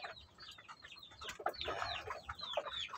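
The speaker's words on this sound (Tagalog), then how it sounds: "Nangitlog na ulit yung ating Big Mama." A hen clucks in a lively, broken series of calls just after laying an egg, close and fairly loud, with a few sharper squawks breaking through the rapid clucking.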